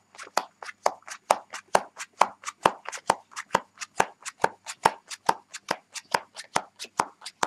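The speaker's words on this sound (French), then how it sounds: "Vous distribuez 20 cartes à partir de la droite" Playing cards dealt one by one from a small packet during a card trick, a brisk, steady run of about thirty crisp close flicks and snaps, evenly spaced with no voice.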